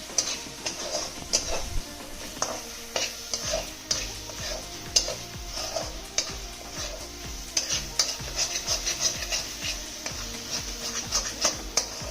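Fish pieces going into frying chilli curry masala in oil, a light crackling sizzle under busy rhythmic stirring, with repeated metal utensil clinks and scrapes against the pot, close up and without talk.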